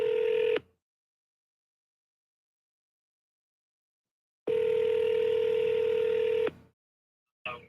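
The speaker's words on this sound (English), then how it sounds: "Let me get them on the phone, the speaker real quick." A call placed on speakerphone sounds out as long, steady electronic phone tones, loud and close, separated by stretches of silence.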